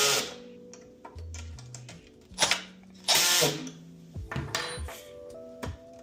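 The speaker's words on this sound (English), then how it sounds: "take our Allen wrench and our wrench and tighten down the 4 bolts that hold the center plate in position" Bolts on the center plate of a TKI CNC sonar shuttle being tightened with an Allen wrench and a wrench, heard as close, scattered metallic clicks, ratcheting ticks and clinks with short pauses between them and no talking.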